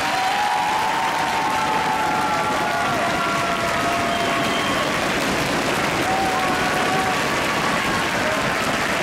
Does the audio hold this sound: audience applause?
yes